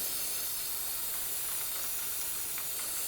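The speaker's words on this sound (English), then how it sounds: "Let's go ahead and spray down the area." A steady, loud hiss of aerosol spray runs without a break, bright and close, sprayed on a 2002-2008 Dodge RAM 1500 before removing a CV axle.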